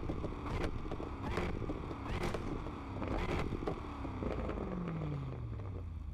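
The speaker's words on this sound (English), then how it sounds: "Do y'all hear this absolute beast of a car?" A 1200-plus horsepower Dodge Charger SRT in Need for Speed Unbound roars through repeated revs, sharp throttle blips followed by a descending engine note, loud and up close with no talk.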